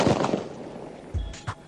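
A black powder firework charge bursts inside a tube, giving a sharp opening bang followed by a second deep, booming thud about a second later, with no voices.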